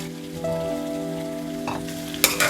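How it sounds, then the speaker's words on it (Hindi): Chana dal frying in a pan with vegetables, a steady sizzle with stirring scrapes and a couple of sharper clatters toward the end, over a constant hum. "अब दाल को भी थोड़ा फ्राई कर लीजिए"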